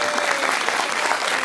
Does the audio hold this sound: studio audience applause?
yes